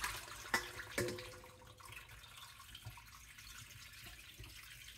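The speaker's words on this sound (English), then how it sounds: "So we're going to rinse this out" Water runs steadily from a tap into a sink while sea moss is rinsed, with a couple of sharp clinks near the start and soft splashing throughout.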